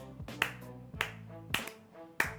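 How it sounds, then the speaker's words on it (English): Four crisp hand claps tapped out to learn a song's rhythm, evenly spaced about half a second apart over a faint sustained musical tone. "like clapping, trying to learn the rhythm"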